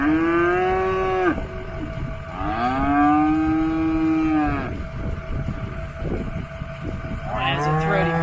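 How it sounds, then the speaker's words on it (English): Several cows moo loudly and repeatedly, long drawn-out lowing calls overlapping one another, close by. "They're mooing at Maximus."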